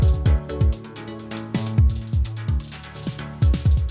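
Rhythmic VST synth pattern in Cubase with its midrange dipped by EQ: deep swooping bass hits and crisp high ticks over a sustained tone, playing steadily, loud and alone.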